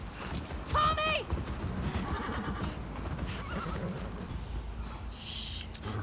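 A horse whinnies loudly and hooves clip-clop steadily in the video game The Last of Us Part 2, the shrill neigh rising briefly near the start while talk continues underneath throughout.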